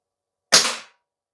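An Action Army T-11 spring-powered bolt-action airsoft rifle fires one sharp, close crack during an outdoor field test. The shot decays quickly into silence.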